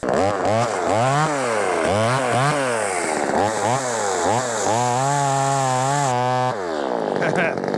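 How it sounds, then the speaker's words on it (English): A Vevor top-handle chainsaw cuts hard, dry live oak, its engine revving up and down in repeated surges, then holding a steady high whine. It is loud and close. "Cutting hardwood is a very difficult test and difficult on chainsaw"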